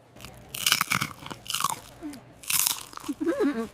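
Crisp crunchy bites into American fast food, a few loud close crunches in quick bursts followed by softer chewing, with no talk.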